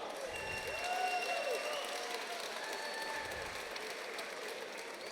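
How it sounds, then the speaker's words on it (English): Crowd applause for both fighters at an MMA event fills the arena as a dense, steady wash of clapping and cheering, heard from some distance at a moderate level with faint tonal noise over it. "round of applause for both fighters"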